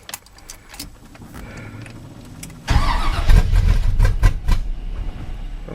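A K10 engine cold-starting: a few seconds of faint cranking and clicks, then it fires and roars to a loud, uneven run that stays close and strong to the end.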